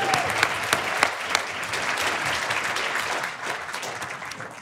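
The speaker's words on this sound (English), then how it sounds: "let's give a round of applause for Peak 43" A round of applause from the audience at a business awards show for fast-growing Idaho companies, dense and steady clapping with a few sharp claps, tapering slightly toward the end.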